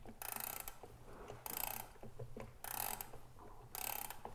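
Antique mechanical clock with a pendulum at the back, displayed at a folk park, being wound by hand: bursts of dense ratcheting clicks from the winding key, about four, separated by short pauses, close and fairly quiet with no talking.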